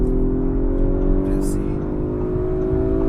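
An Audi RS5 Sportback accelerates hard from a push, its engine holding a steady, loud hum close by while a person speaks briefly over it.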